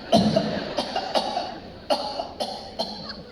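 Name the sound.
imitated coughing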